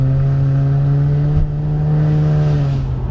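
A car climbs a wet mountain road with worn tyres slipping, the engine holding a steady close whine and hum that dips briefly mid-way before settling again.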